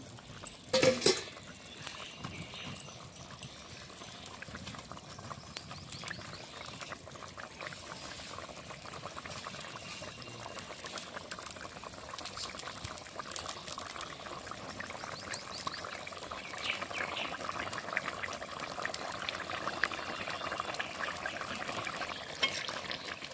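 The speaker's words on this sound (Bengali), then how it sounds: "আর কিছুক্ষণ সময় ফুটিয়ে নেব।" Fish curry with pointed gourd, potatoes and fried rohu gently simmering in a pan, a steady soft bubbling and liquid burble running throughout, fairly quiet and close, with no talking.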